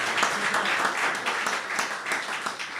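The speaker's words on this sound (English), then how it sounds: "Give him a round of applause" A symposium audience gives the moderator a round of applause: dense, steady clapping that stays fairly even for nearly three seconds, with no talk on top.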